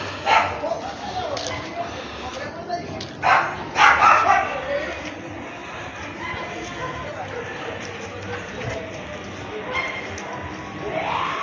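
On a street outside a house, a dog barks and yips in short bursts while playing with a ball. The barks come in clusters, some loud and close, mixed with people talking throughout.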